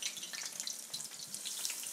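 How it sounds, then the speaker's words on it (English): Beer-battered onion rings fry in a skillet of hot oil, giving a faint, steady hiss with fine crackling bubbles that rise and fall slightly, close by and without speech. "the oil's good and hot, so we've got some good bubbling going on there"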